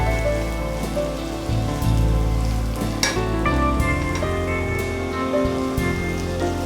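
Sausage pieces and browned onions frying in a pan, a steady dense sizzle with crackling pops and a few stirring scrapes throughout, close and loud, with no voices.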